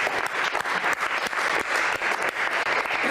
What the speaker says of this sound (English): So again, give yourselves a round of applause.